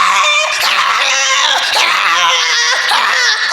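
A man imitates a female dog with his voice, giving dense, continuous whining, yelping and howl-like cries that run loud and unbroken for the whole stretch, in a stage comedy setting.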